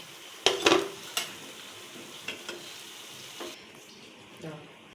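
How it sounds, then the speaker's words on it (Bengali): Fish-shaped green banana fritters frying in hot oil, with a steady sizzle and several sharp clinks and scrapes of a utensil against the pan, heard up close. "আমার মাছগুলো দেখো ভাজা হয়ে গেছে"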